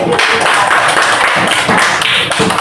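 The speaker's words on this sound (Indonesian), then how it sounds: "Oke, tepuk tangan sampai sini dulu." Primary school children clapping their hands together in a classroom, a loud, close, continuous patter of many hands that carries on evenly throughout.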